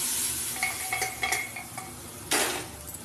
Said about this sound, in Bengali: এবার সিদ্ধ করা ডালটা আমি ঢেলে দেবো